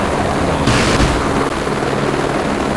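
A military helicopter in a video game, a Venom carrying a door gunner, roars steadily and loudly with a dense rotor and turbine wash throughout, with no talk.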